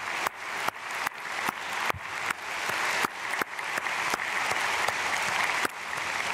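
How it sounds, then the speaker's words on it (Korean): A church congregation at a dawn prayer service applauds steadily, a dense, even clapping that holds from start to finish with no voices on top. "우리 부모님들께도 박수로 감사드리고 축복하겠습니다."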